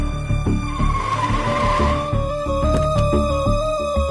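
A car brakes hard and skids loudly to a stop, a sustained tire squeal over a rumbling engine, close and dominant throughout.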